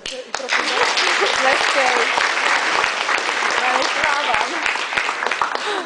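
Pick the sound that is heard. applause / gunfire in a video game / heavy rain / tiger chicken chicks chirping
applause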